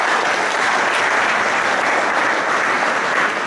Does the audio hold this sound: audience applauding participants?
yes